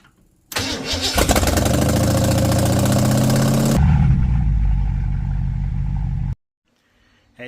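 A Ford 302 V8 cranks briefly, catches and roars into a loud, close rev, then settles to a lumpy idle before cutting off abruptly into silence.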